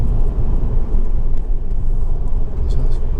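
A Honda Civic 2.2 i-CTDi turbo diesel drives along, giving a loud, steady low engine and road rumble inside the car while someone talks over it.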